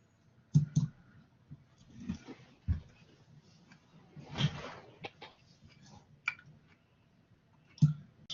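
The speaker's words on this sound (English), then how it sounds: "shift right mouse click." Computer mouse clicks come as sparse, sharp single taps spread irregularly across a quiet room, close and fairly soft, with faint background shuffling.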